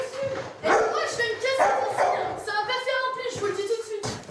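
A dog barking aggressively at a château, a series of loud, close yaps and woofs in uneven bursts, some with whiny edges, repeating through the stretch.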